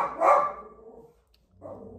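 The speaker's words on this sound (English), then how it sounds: "It's just my dog barking at somebody outside." A dog barks at someone outside: one loud, sharp bark, a short pause, then the start of a second, quieter bark.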